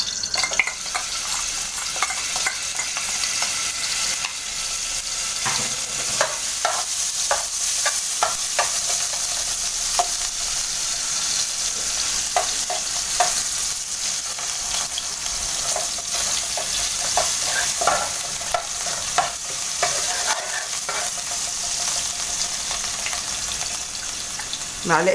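Chopped onions sauté in hot oil for a base sauce for tripe and potatoes, a steady bright sizzle running throughout with spoon scrapes and stirring knocks in the pan, close and fairly loud, with no talking.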